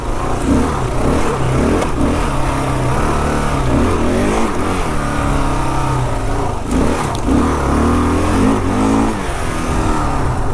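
A new Kawasaki KLR650 single-cylinder motorcycle rides off-road slowly in first and second gear, its engine droning loud and close with steady throttle swells and no speech over it.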